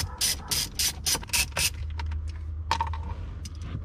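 Ratchet working two 10mm bolts on a 4Runner dash, a burst of quick clicking strokes up close followed by a low hum and a few faint clicks and scrapes.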